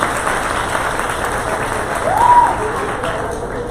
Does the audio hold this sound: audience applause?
yes